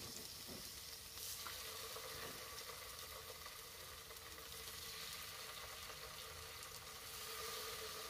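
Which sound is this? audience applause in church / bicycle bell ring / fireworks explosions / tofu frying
tofu frying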